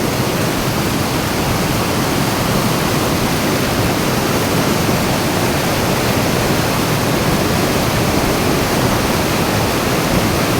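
Kali Tawangmangu, a fast-flowing mountain river, rushes in a loud, steady roar of white water, dense and unbroken throughout with no voices.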